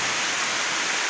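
Heavy rain pours down in a steady, dense roar that stays constant throughout, with no voices over it.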